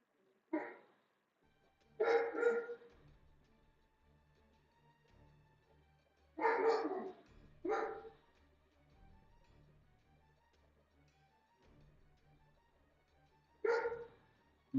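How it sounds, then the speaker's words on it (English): A dog barks indoors-distant to be let in, giving a handful of separate sharp barks in short clusters spread over roughly fifteen seconds, moderately far and fairly quiet, with silence between. "Just my dog wants to come in."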